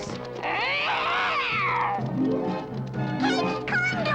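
An animated cartoon cat lets out a long, wavering yowl that rises and falls, loud and close, followed by shorter meow-like cries and squeals.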